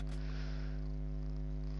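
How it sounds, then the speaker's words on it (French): A cat purrs close up in a steady, continuous low rumble, with a brief soft rustle near the start and a small bump at the very end. "Je sais pas si je vais essayer de vous faire écouter son ronron parce qu'elle ronronne."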